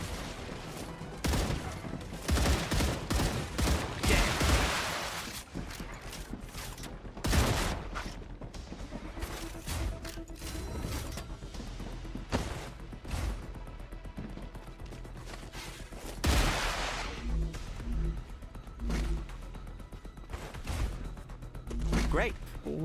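Gunfire in the sci-fi survival factory-building game StarRupture, as blue vermin creatures are shot down: repeated sharp bursts and volleys of shots over several seconds, mixed with game effects and a voice talking throughout.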